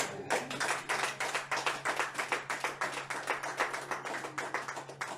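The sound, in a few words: church congregation clapping and acclaiming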